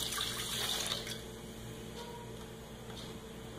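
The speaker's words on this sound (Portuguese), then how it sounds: "E vamos colocar o leite" Milk pours into a metal mug while making Brazilian Minas-style cheese bread, a steady close liquid stream that fades to a softer trickle, with no talk.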